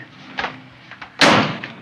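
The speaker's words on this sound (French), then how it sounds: "En refermant la porte, Quentin exclut son épouse" A door closes in a scene from the French film Un singe en hiver, landing as a sharp, close thud after a few lighter knocks and creaks, with no talk.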